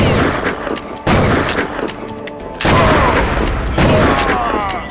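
Shotgun blasts from the LucasArts first-person shooter Outlaws, a single-barrel gun firing several loud, booming shots about a second or so apart, each with a long rumbling tail and mechanical clatter between them.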